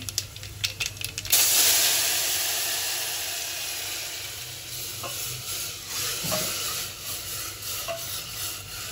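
Oil sizzles and hisses steadily as spices temper in a pan for bitter gourd fry, with a loud burst at the start and occasional stirring clatter.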